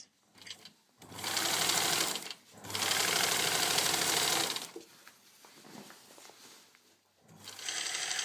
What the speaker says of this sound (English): The machine seems to go fast because of the longer stitches, so slow it down and try and sew nice and straight.